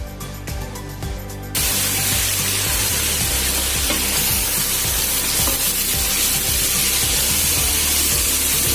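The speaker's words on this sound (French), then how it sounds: "j'ajoute donc les carottes et je laisse encore mijoter avec la viande" Meat and carrots simmering in a pan for a pepper sauce, a loud steady sizzle with bubbling and scraping stirs throughout after a brief quieter opening.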